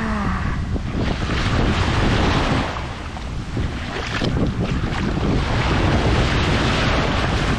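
Ocean waves and wind on the beach at Arrecife, Lanzarote: a loud, close wash of surf with heavy wind buffeting the microphone throughout.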